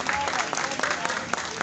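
A crowd at a one-day pigeon-flying tournament prize ceremony in Mughalpura applauds the first-prize winner with a brief burst of dense, steady clapping, fairly close and loud.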